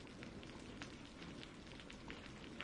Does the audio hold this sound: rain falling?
yes